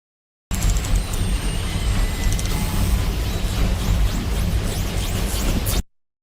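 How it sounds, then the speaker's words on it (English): Underwater recording of a ship's propeller noise, a constant heavy low rumble and hiss, with faint high whale calls sweeping and chirping over it throughout, no voices. "very strongly dominated by that low frequency signal, but you can hear some of the whale calls that are superimposed upon that"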